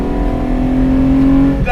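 1975 Lancia Stratos HF Group 4 Works accelerating from 45 to 55, a loud, close engine drone holding a steady pitch that rises slightly before easing off.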